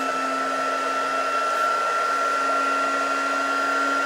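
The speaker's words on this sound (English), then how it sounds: "bring in your heat tool, and you're just going to want to let this warm up just for a few seconds" A craft heat tool for melting embossing powder runs steadily, a constant close whirring blower with a high electric whine that holds even for about four seconds with no talk.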